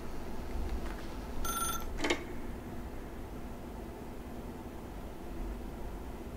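A telephone rings in the video game The Stanley Parable, two short electronic ring bursts standing out over a low hum, then stopping.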